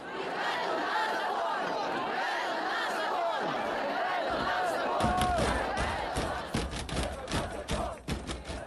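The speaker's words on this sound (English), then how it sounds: "Thousands of Kiev residents gathered outside the president's office to protest." Crowd of Kyiv residents protesting outside the president's office, a dense mass of voices with shouting that swells and grows choppier and louder toward the end.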